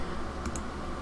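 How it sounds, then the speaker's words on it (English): Keys on a computer keyboard tapped during setup of Windows NT Server 4.0, a couple of quick faint clicks over steady background hiss, no voices. "just type in some basic info here, and then next, and then the CD key"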